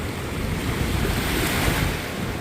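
Atlantic Ocean surf at a beach near a pier, a steady broadband wash of breaking waves with wind buffeting the microphone, loud and continuous with no voices.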